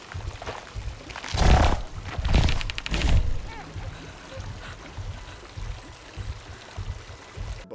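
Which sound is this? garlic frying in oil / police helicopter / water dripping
water dripping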